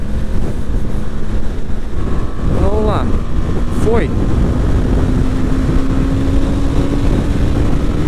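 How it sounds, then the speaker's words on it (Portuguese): Strong wind buffeting the helmet microphone while riding a BMW G310GS motorcycle at speed, a loud constant roar with the engine's rising tone beneath, and a rider speaking briefly over it. "Muito vento."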